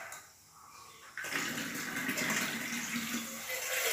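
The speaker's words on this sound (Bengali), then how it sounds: "জল দিলাম" Tap water pours in a steady, full stream into a bowl meant for soaking cut raw green bananas. The flow starts abruptly after a short quiet moment and keeps gushing to the end.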